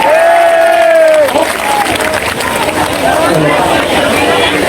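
A crowd at a student protest claps and cheers in a thick, loud burst, with someone speaking over it at the start before the noise settles into steady applause and chatter.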